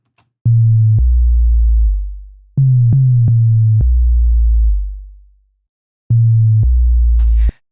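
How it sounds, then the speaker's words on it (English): A pure, smooth synthesized bass tone plays in short held notes with gaps, each note gliding down and fading before the next starts; no voices. "So it's just more or less a sine wave."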